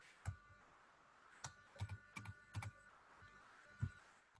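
Keys clatter on a computer keyboard as an SQL command is typed, scattered quiet clicks in short irregular bursts with pauses between them, and no voice.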